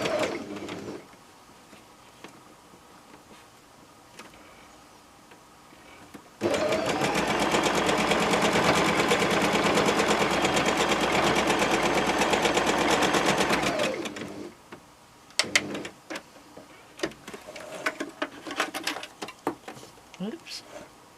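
A sewing machine stitches a messenger-style shoulder bag in one steady, loud run of about seven seconds, framed by quieter handling noises and brief clatter before and after.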